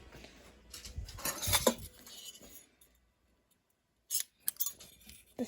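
Teaspoons grabbed from a cutlery drawer give a burst of metallic clinks and rattles over the first couple of seconds, then a short silence, then a few more sharp clinks near the end. Close and fairly soft.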